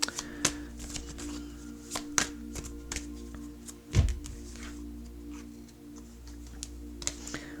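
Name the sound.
handling and shuffling tarot cards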